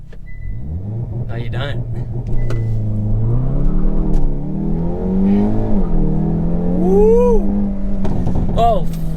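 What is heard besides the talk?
Hyundai i30N launch acceleration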